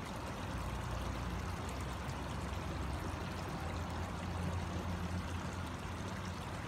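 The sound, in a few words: pond vacuum discharging water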